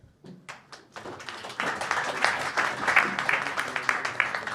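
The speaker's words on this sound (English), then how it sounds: "So please give a warm applause to François-Xavier Vucekovic and Pierre Abad" An audience at a climate conference summit applauds two panelists, scattered claps building quickly into steady, fairly close applause from a sizable crowd.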